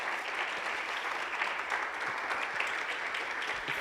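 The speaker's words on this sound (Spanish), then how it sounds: "Dale un fuerte aplauso al Señor." A church congregation applauds steadily, dense clapping from many hands at moderate distance, continuing without pause.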